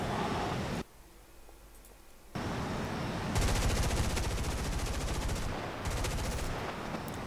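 Rapid bursts of automatic aircraft gunfire in a video game dogfight crackle in close succession, pausing briefly before resuming in long rattling volleys, loud and dense throughout.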